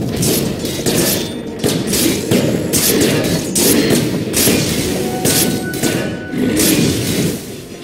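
Repeated heavy thuds and crashing impacts hit as Dire's top tower comes under attack in a Dota 2 match, a dense, loud, continuous battering of blows and bursts with no voices.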